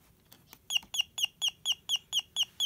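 An Elenco Electronic Playground 130 circuit kit emits a bird-like electronic chirp, repeated about eight times in an even rhythm, thin and fairly faint, following a few scattered clicks.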